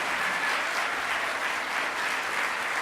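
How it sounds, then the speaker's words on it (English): A brief burst of audience applause follows a speech, even continuous clapping from a crowd at moderate volume. "Give them a round of applause."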